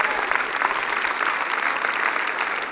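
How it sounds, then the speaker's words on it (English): A church congregation claps hands together in praise during a service, a dense, steady wash of many hands held at an even loudness throughout. "Come on and give the Lord a hand clap."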